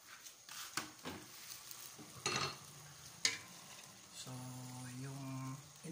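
Pork belly simmering in vinegar in a pot for Bicol-style dinuguan, a quiet bubbling sizzle with occasional stirring scrapes and clinks, close and faint, no talk.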